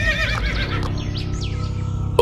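A horse in a cartoon story lets out a single loud, wavering whinny that trails off, heard close and alone over a dense background bed.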